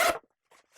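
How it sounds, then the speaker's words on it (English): A quick zip as the laptop compartment zipper on a GORUCK GR1 backpack is pulled open, one short rasping stroke followed by a fainter second tug, close and alone. "zipper it down"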